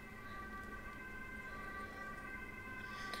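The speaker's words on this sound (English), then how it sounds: "The windows are closed and I can still hear them." Emergency vehicle sirens outside a building, heard indoors through closed windows, a faint, steady wailing tone that goes on for the whole stretch, with no talk.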